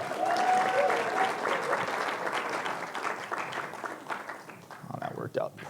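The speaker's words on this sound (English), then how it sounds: "Can everybody give a high five or a handshake or a big round of applause for Eileen for cutting the vegetables?" Audience applause at a live cookware demo after a volunteer cuts vegetables, a full burst of clapping that gradually thins out as voices begin talking near the end.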